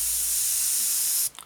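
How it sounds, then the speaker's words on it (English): An airbrush sprays Tamiya XF24 paint lightly onto a 1/32 Wingnut Wings RE.8 model kit, a steady loud hiss that cuts off abruptly near the end. "XF24, spray through lightly."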